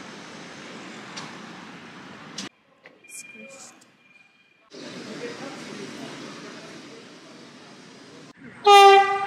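A train in Tuscany rumbles steadily, drops out briefly, resumes, then ends with a loud, sharp horn blast near the close.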